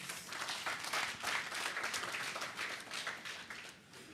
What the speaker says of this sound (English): Maybe another round of applause.